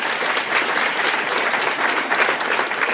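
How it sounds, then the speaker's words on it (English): An audience at a health product presentation breaks into steady, full applause, a dense continuous roar of clapping with no pauses. "Hold your applause."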